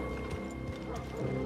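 Horse hooves clip-clopping in Red Dead Redemption 2 while riding out to find the white Arabian horse, a steady rhythmic trot under a dense game soundscape and a talking voice.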